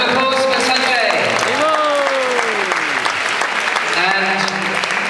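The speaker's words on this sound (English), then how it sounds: "Round of applause for Sanjay." Steady, dense applause from a sizable crowd fills the clip, with voices and faint vocal sounds rising over the clapping.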